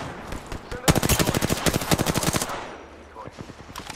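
Rapid automatic gunfire in the battle royale game Apex Legends: a long, loud, evenly spaced burst of shots lasting a couple of seconds, with a few single shots before and scattered quieter shots afterward.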